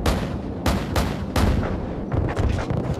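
An AC-130 gunship fires in a Modern Warfare 2 Search and Destroy match on Scrapyard, with several heavy booming cannon shots at uneven intervals followed by a faster burst of rapid fire.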